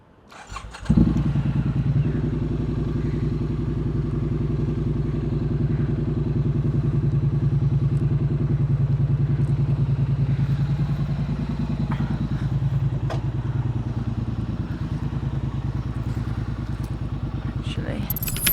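A Triumph Street Twin motorcycle fires up with a sharp start and settles into a steady, close, throbbing idle that runs on for many seconds, with brief clunks and rattles near the end.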